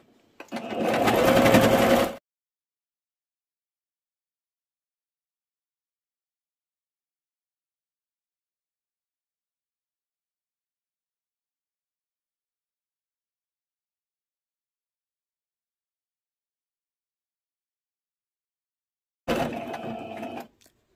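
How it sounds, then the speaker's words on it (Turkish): A sewing machine runs a zigzag stitch along a tablecloth edge in two short bursts, about two seconds at the start and one second near the end, with long silence between them. "O kısımları düz dikişle dikemeyen arkadaşlar makinenin zikzak ayarıyla da dikebilir."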